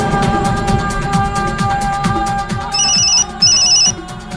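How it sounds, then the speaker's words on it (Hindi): A mobile phone rings loudly and close by, a repeating electronic ringtone with bright beeping tones over a low rhythmic musical pattern, with no talking. "मॉम का फोन है।"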